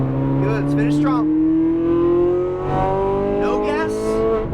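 A Ferrari 458 Italia accelerates hard on a race track, its engine note climbing steadily in pitch as it pulls. The engine is loud and close, and a voice talks over it.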